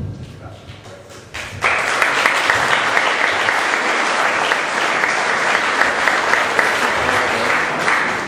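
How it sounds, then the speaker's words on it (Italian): An audience at an outdoor community festival awards night gives loud applause, starting after a brief quieter moment and then swelling into a full, sustained burst of clapping that continues strongly to the end. "gli facciamo un bel applauso"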